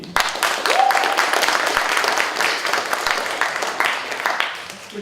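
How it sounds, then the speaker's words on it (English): Studio or lecture-hall audience applauding together, a dense, steady wash of many hands clapping that holds for several seconds before tapering off slightly. "why don't we do the applause?"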